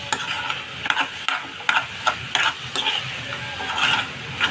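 A spoon scrapes and clacks through tomato curry in a pan, a Telangana-style dish, in uneven strokes over a soft sizzle, close and fairly loud with no talking.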